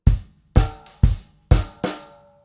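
A short drum kit pattern of punchy kick and snare hits with crisp hi-hat and cymbal wash, five strikes over about two seconds, played alone.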